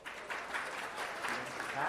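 A theater audience at a fringe festival show applauds to vote for a scene, giving a dense, steady clatter of clapping that holds for the full two seconds.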